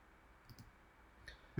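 A mouse clicks the save button while editing a WordPress menu: a few faint, sparse clicks, with one sharper, louder click at the end.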